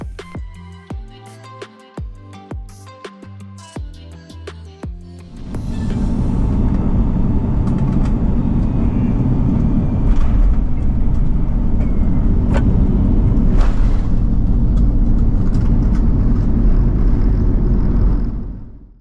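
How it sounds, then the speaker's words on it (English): Steady loud cabin rumble inside an ITA Airways Airbus airliner on approach into Fiumicino, a broad constant roar filling the clip after a few seconds of music at the start. "we began our approach into runway 16 right at Fiumicino"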